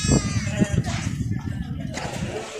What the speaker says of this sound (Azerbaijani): Erkək quzular.